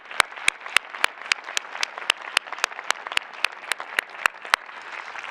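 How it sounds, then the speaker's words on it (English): Audience applause following a leadership summit speech, a steady patter of many hands with sharp individual claps standing out throughout, moderately distant and sustained without voices. "Another round of applause for our mayor and our chair for their great work."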